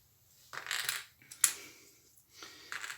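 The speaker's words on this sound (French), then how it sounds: "on va bien mélanger les idoles. Fâche cachée, on mélange les idoles" Hard board game idol tokens shuffled face down on a table, a few short clattering scrapes and clicks in separate bursts with quiet gaps between them, fairly close and alone.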